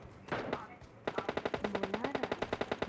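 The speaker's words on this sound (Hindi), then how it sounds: "बॉट फायरिंग कर रहा था" Rapid automatic gunfire from a bot in the video game PUBG, a loud evenly spaced burst of shots after a brief earlier volley, with a voice speaking over the start.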